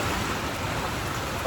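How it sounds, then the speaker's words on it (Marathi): A sudden wind and rain storm, dense steady rain roaring close and loud with gusting wind, no talk. "वारे पाऊस आला."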